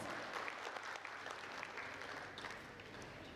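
A large conference audience at an Indian food and nutrition event applauds steadily, dense clapping filling the room at an even level throughout without letting up.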